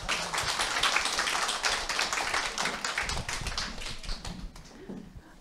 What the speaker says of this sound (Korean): 노성은 국장님을 큰 박수로 모시겠습니다